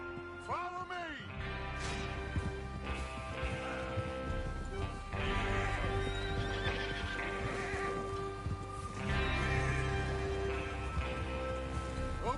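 Horses whinny and hooves clip-clop in Red Dead Redemption 2, with a neigh near the start over a dense bed of rain, music and ambient game sound, and voices talking through it.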